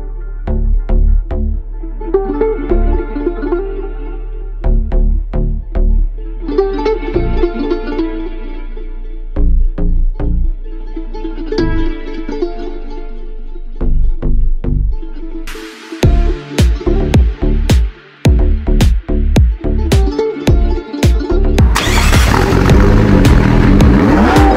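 Two cars racing, a DDE-tuned supercharged McLaren against a full-bolt-on twin-turbo Corvette Z06, loud and close: rhythmic engine pulses and revving, then a harsh full-throttle roar with sharp bursts of clatter and pops toward the end.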